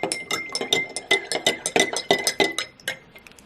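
A spoon clinks rhythmically against the inside of a glass or cup while pink lemonade drink mix from an MRE is stirred, about a dozen close, bright taps in a steady beat.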